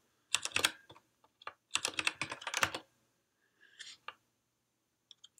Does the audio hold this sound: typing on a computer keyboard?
yes